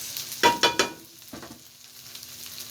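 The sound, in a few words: sautéing garlic and onion in a pan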